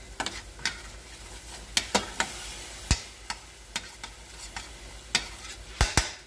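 Puerto Rican-style chile ingredients sautéing in a pan, with a steady low sizzle broken by sharp, irregular clicks and scrapes of a utensil stirring, close and moderately loud with no voices.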